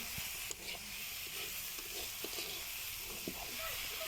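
Bitter gourd (karela) fries in a pan with a steady, close hiss of sizzling oil, broken by a few faint clicks and pops.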